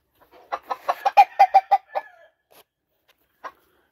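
Game chickens, both roosters and hens, cluck on a farm in a quick run of about eight close, loud calls, followed by a few softer scattered clucks.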